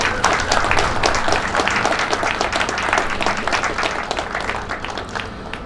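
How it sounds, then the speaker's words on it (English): Audience applauding at an outdoor groundbreaking ceremony for a recreational center, dense steady clapping from a sizable crowd throughout. "So join us in giving them a round of applause."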